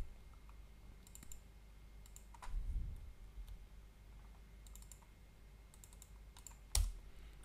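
Computer keyboard keys are pressed while operating a TI-99/4A emulator setup, giving sparse, quiet clicks and taps with a louder keystroke near the end, no talking.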